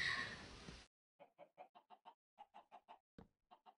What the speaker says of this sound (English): So you can have a good amount, like 12 chickens up in this joint.